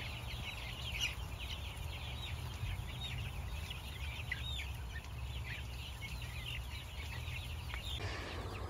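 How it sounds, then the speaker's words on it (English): A flock of pasture-raised chickens on a roost clucks and chatters steadily at moderate distance over a constant low background hum. No voices are present. "Well, it officially looks like a lot of chickens."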